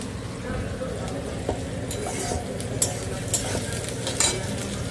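Onion sizzles in hot oil in a pan, with continuous frying crackle and occasional clinks as a spoon stirs it, and a voice talks softly underneath.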